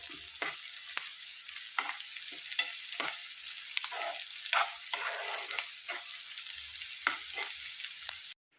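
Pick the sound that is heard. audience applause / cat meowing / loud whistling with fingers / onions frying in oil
onions frying in oil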